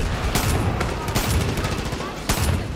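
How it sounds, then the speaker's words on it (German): Repeated muffled gunfire bursts and booms from a Far Cry 5 outpost fight, mortar rounds landing amid the shooting, sharp broadband hits about every second over a dense, steady din of combat noise. "Irgendwo ist ein verkackter Mörser"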